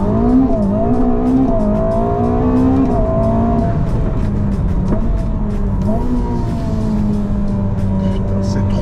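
A Ferrari SF90 with a twin-turbo engine launching hard and pulling away, its loud engine note rising through the gears with brief shift dips, heard from inside over a steady roar.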